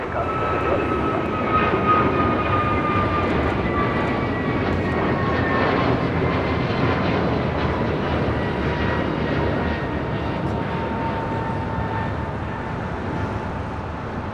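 An airliner takes off from runway 25 right at LAX, its jet roar loud and sustained with a slowly falling whine across the whole stretch.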